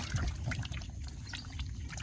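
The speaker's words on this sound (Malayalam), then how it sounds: "വെള്ളം അങ്ങ് മുക്കി വെള്ളം കയറട്ടെ" Water trickling and pouring into a small boat being deliberately sunk, a steady close gurgling flow that runs without a break, with no talking.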